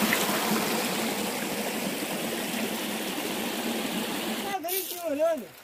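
A river flows through jungle, a steady broad rushing wash of water heard close and fairly loud, before a person starts talking over it near the end.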